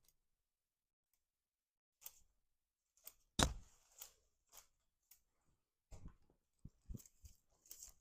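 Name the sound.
cutting ficus foliage with shears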